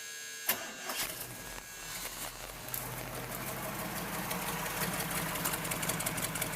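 A 1978 GMC 3/4 ton two-wheel-drive truck with side pipes cranks briefly, catches, and settles into a steady, rumbling idle, loud and close, continuing evenly to the end with no voices.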